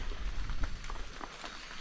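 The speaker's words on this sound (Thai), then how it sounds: "ฝนก็เบาแล้วครับผม" Light rain patters faintly and steadily on surfaces outdoors, a soft, even wash with no voices.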